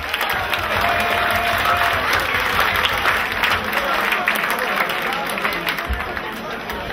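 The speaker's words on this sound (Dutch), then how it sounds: "Nou, gewoon een geweldige applaus," An outdoor festival crowd applauds volunteers at a pole-sitting contest finale, loud continuous clapping mixed with cheering and crowd chatter throughout.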